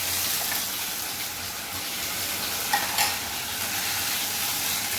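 Onion, chilli, ginger and garlic fry in a pan for an egg and potato curry, a dense steady sizzle close by with a couple of brief stirring scrapes, and no voices.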